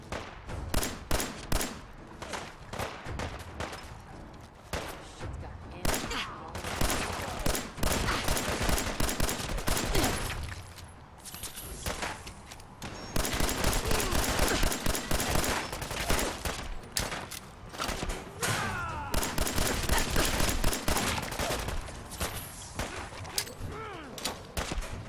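Sustained gunfire in the video game Fallout 4 Far Harbor, loud rapid volleys and bursts of shots nearly throughout, with brief lulls between exchanges.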